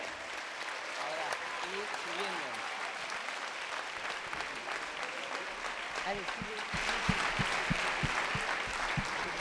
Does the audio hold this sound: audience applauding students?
yes